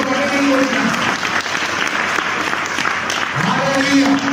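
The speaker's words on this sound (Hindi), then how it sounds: "ताली बजा के प्रभु का धन्यवाद करो।" An audience at a church gathering claps steadily in thanks to God, a full dense sheet of applause with a voice speaking or calling out over it at the start and end.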